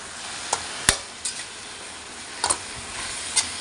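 A steady sizzle of meat stir-frying with greens in a pan, with occasional clinks and scrapes of a utensil stirring, fairly quiet and close.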